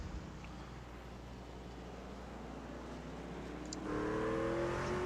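Racing truck engines in the NIS Truck Series roar along a track's long backstretch toward a hard braking zone. A steady, loud mechanical drone builds, with a rising engine whine climbing sharply over the last second.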